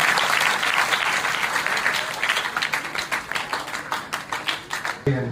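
A room at a farewell ceremony fills with steady group applause, many hands clapping together before it thins into scattered claps and stops with a final thump.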